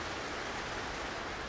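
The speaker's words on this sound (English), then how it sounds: "it's raining outside." Rain falls outside, heard as a faint, steady broadband hiss from indoors, alone and unbroken.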